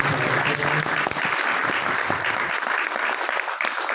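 A crowd gives loud, sustained applause welcoming a guest at a public gathering, dense continuous clapping that thins slightly toward the end.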